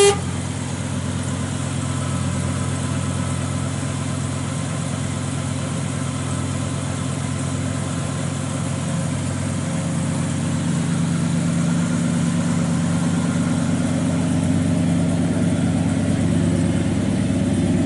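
A 1966 Chevrolet Chevelle SS 396 V8 with an aluminum intake and Holley carburetor idles close by, a steady, loud, even rumble that continues without pause.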